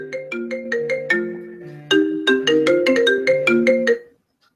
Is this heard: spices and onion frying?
no